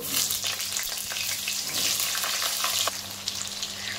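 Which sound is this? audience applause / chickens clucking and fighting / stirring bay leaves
stirring bay leaves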